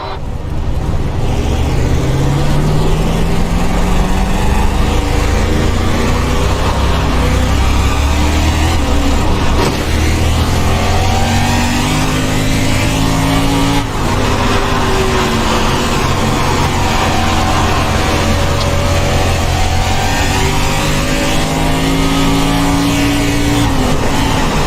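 Race car engines roar continuously on a dirt oval in the iRacing sim, loud and close, with repeated rising and falling revs as the cars accelerate and lift through the turns.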